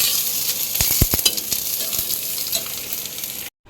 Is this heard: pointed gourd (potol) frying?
yes